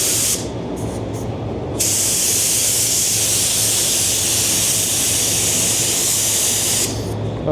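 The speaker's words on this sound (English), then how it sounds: "directing the spray this way so as it doesn't go over it" Spray gun hissing out paint coats onto a colour card while matching Lamborghini Revuelto paint, a loud steady close spray with a short break near the start, then one long continuous pass.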